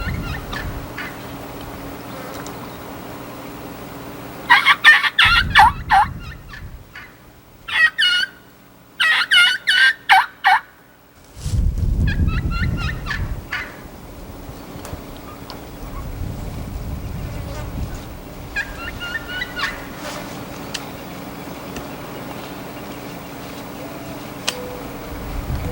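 A wild turkey gobbler gobbles several times during a turkey hunt, in loud rattling bursts spaced across a quiet outdoor scene, with insects buzzing and low thumps between calls.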